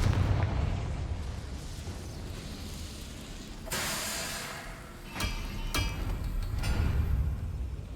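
In a Hogwarts video game, a Confringo fire spell detonates with a sudden burst of crackling blast noise, followed by a few sharp secondary pops over a rumbling, hissing background.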